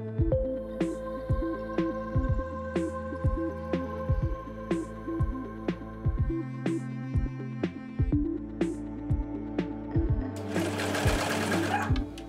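A sewing machine stitches the sleeve seam of a knit top in close, steady bursts of rapid needle chatter, stopping briefly between runs, with no one speaking.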